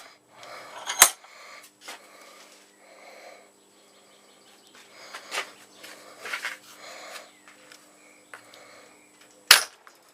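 The paracord string of a homemade carbine crossbow snaps, with two sharp, loud cracks about eight seconds apart and quieter handling clicks and scrapes between them.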